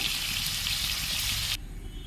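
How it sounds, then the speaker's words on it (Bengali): Small peeled potatoes coated in salt and turmeric fry in hot oil, a steady close hiss and sizzle that runs loud for about a second and a half, then cuts off abruptly to a quiet background. "প্রথমে ছোটো ছোটো আলুগুলোকে ছাল ছড়িয়ে নিয়ে নুন হলুদ মাখিয়ে তেলের উপরে ভাজতে বসিয়ে দিয়েছি"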